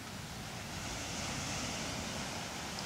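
Ocean waves wash steadily onto the wide, tree-lined sand of Bangsak beach in Phang Nga, Thailand, a continuous broadband surf roar with some wind, even in level and heard alone without voices.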